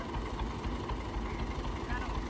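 A tractor engine idles steadily outdoors at a farm shelter, a continuous low rumbling drone throughout with no change in pace, and voices talk over it.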